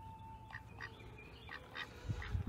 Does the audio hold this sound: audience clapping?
no